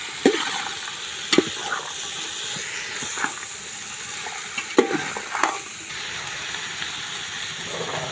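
On a wood-fired stove, potatoes, washed basmati rice and other pulao ingredients are mixed in a pot. Repeated ladle knocks and scrapes ring out at irregular intervals over a continuous steamy hiss, close and fairly loud, with no speech.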